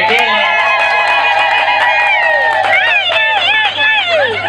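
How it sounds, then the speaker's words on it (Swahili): High, warbling ululation rings out at a wedding celebration, several trilling voices rising and sliding together close by, with crowd murmur underneath. "naomba tupige makofi na vigelegele"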